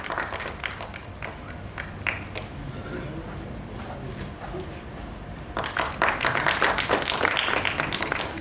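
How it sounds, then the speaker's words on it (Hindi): Applause welcoming an honoured guest at a Hindi poetry book launch, with scattered claps and a voice early on, then swelling into louder, denser clapping near the end. "जोरदार तालियों से अपने इस गणमान्य का हम अभिनंदन करें।"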